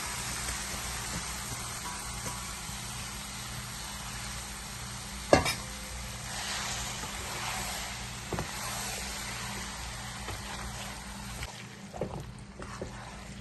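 Mango pieces sizzle steadily in hot spiced oil for pickle, a constant frying hiss with occasional stirring scrapes and a sharp clack of a spoon, no talking.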